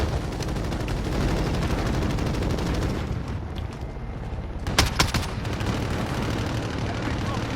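Oden rifle gunfire in a video game, with a sustained loud rumble of shooting and booming impacts. It eases briefly, then resumes with a few sharp, close cracks.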